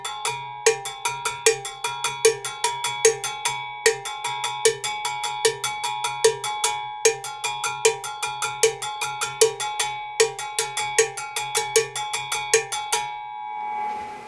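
A Cuban timba salsa drum beat plays alone, its cowbell ringing clearly in a steady, repeating pattern of quick metallic strokes for the whole passage before it stops near the end.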